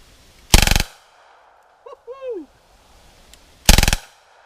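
Automatic machine gun fire aimed at a steel target: two loud, sharp bursts of rapid shots a few seconds apart, with a quieter whistling or squeaky sound in the gap between them.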